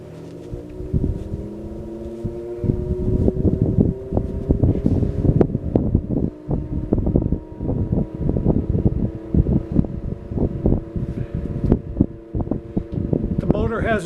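A vintage GE General Electric 8-inch table fan, model FM8S11, runs with a humming motor and a noticeable rattle, and a steady airy whoosh rises beneath it as it comes up to speed nearby.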